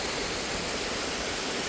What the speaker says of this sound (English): Not worth it for that little waterfall.